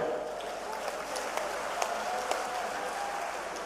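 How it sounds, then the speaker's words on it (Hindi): Crowd at a road project foundation ceremony in Gwalior claps for dignitaries, a steady wash of applause at moderate distance with a faint tonal hum and a few sharper individual claps standing out. "ताली दोनों के लिए ग्वालियर वाली बजे भाई।"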